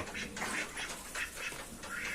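Ducks on a poultry farm quack loudly and close by in a rapid overlapping chorus, with no talking.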